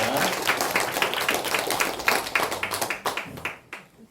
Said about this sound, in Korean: 다시 한번 큰 영광의 박수 올리며